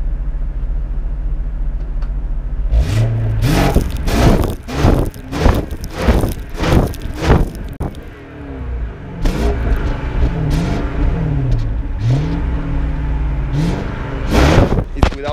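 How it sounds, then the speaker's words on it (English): A 2003 BMW E65 745i V8 with no catalytic converter revs hard in a burst of repeated throttle blips, then settles into lighter, rising and falling revs, loud and close with a deep, rough exhaust note. "It's without catalyst, so that's why the sound is a little bit louder than the stock one."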